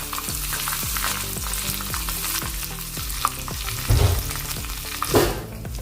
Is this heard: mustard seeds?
yes